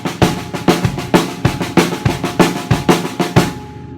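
Fast, even drum strokes in a rolling paradiddle and triplet sticking pattern, accents landing regularly with a low kick underneath, played alone at close range on a drum set.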